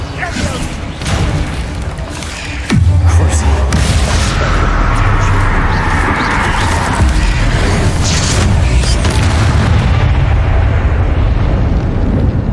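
Confringo explosive spell blasts in Hogwarts Legacy hit as a deep, heavy boom, then a sustained rumbling roar of debris and magical noise follows, loud and close, with talking in the game.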